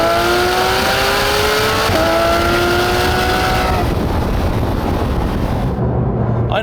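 A Porsche 911 GT3 RS (991.2) 520-horsepower engine screams upward through rising revs toward 9,000 rpm, shifts once with a brief dip, then climbs again before fading into road noise.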